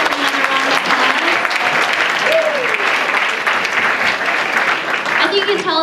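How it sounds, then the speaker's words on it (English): Audience applause following a dinner theater show at a student orientation, loud and continuous crowd clapping with voices and cheers mixed in throughout. "Yeah, we can give another round of applause."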